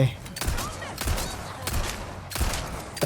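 In the Resident Evil 4 Remake, a handful of sharp gunshots ring out about every half second to second, each with a short decaying tail, while a voice talks between them.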